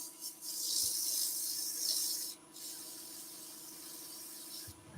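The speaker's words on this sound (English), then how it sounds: "I'm just letting the abrasive do the work." Abrasive sanding a turned wooden hanging bauble on a lathe gives a steady, loud hissing rub with a whining squeal, pausing briefly midway before continuing, with no talking.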